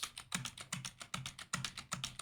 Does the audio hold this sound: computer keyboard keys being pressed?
yes